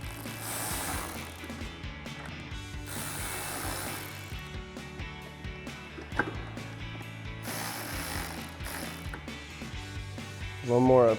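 A ratchet clicks as a T20 Torx socket tightens bolts on aftermarket LED fog lights on a Jeep Gladiator JT, with repeated bursts of ratcheting close up and a short louder rattle at the end.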